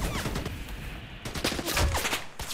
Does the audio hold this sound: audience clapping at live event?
no